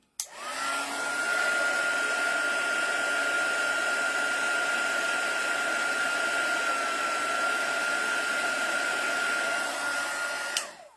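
A heat embossing tool melting embossing powder blows with a steady, close whooshing drone and a high whine, switching on at the start and cutting off near the end, with no talking.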